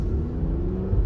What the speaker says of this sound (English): Gonna step on the gas.